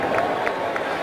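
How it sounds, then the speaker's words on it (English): A stadium crowd at a Lions vs Jaguars football game in Detroit keeps up a steady, loud roar of cheering for the whole brief moment, with a few faint shouts rising above it. "This crowd fired up and ready to play against the Jaguars team hungry for a win."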